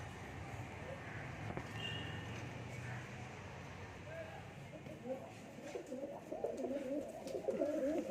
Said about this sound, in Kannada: ನೋಡಿ ಹಕ್ಕಿಗಳೆಲ್ಲ ಹೆಂಗ್ ಸೌಂಡ್ ಮಾಡ್ತಾ ಇದಾವೆ ಫ್ರೆಂಡ್ಸ್